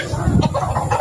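Chickens of a brown-grey breed cluck on a farm in a short close burst, with low rumbling background noise.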